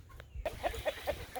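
Several chickens cluck at a backyard compost heap in a quick, uneven run of short clucks, close by and fairly loud over a low outdoor rumble.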